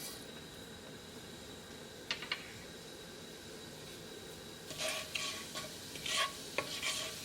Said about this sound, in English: As the oil start to heat up, add cumin seed, jeera.